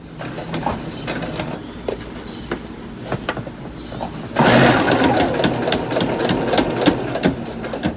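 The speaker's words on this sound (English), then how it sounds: "I've sewn all the way around except for the part that I need to keep open to turn it inside out." A sewing machine stitching a messenger-style farmers' market bag, with fast rapid mechanical clatter in short bursts that steadies into louder continuous running midway, close and prominent.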